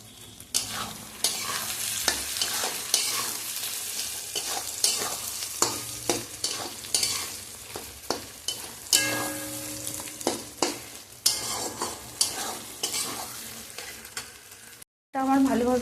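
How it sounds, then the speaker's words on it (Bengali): Tomatoes sautéing with spices and chilli in a pan, a low sizzle broken by repeated sharp scrapes and knocks of a spoon stirring, with a brief silence near the end. "টমেটোর সাথে মশলা দিয়ে আরও খানিকক্ষণ কষাবো।"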